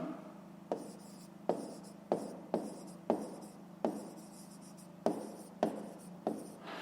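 A pen writes on paper in a series of short scratchy strokes, about a dozen bursts with brief pauses between them, close and quiet.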